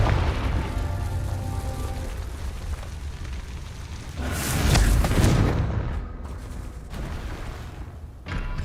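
A Confringo fire spell in Hogwarts Legacy bursts into a loud booming explosion midway, preceded by a low rumbling ambience and followed by a few sharp impacts that fade out.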